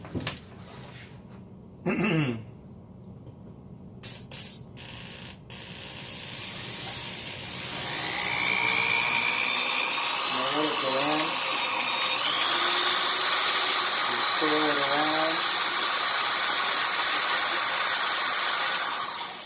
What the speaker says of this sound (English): by rolling the drill bit around, I can make the hole a little bit bigger